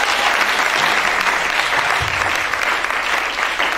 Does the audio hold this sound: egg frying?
no